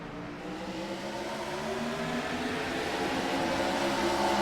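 Gen 4 stock cars take the green flag at Michigan and accelerate into turns one and two, sending up a continuous engine drone. It grows steadily louder over the few seconds.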